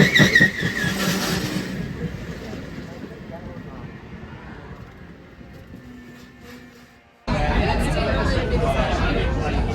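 A crowded train station packed with Lollapalooza traffic: a dense wash of crowd babble and movement fills the space, fading gradually before a loud burst of noise cuts back in near the end.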